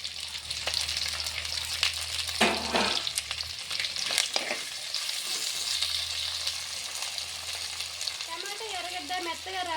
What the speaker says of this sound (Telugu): అదే నూనెలో ముందుగా కట్ చేసి పెట్టుకున్న టమాటా ఎర్రగడ్డనైతే వేసేస్తున్నా కరివేపాకు కానీ వేసేస్తున్నా